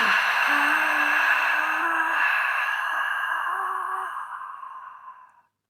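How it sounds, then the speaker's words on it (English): A loud, forceful, breathy exhale during a diaphragm stretch in a morning mobility routine, a long hissing outbreath lasting several seconds that fades away at the end. "that exhale is loud and forceful"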